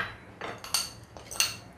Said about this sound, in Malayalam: ഞാൻ കുറച്ച് ബദാം ഒക്കെ എടുത്ത് വെച്ചിട്ടുണ്ട്, അതും ഇട്ട് കൊടുക്കാം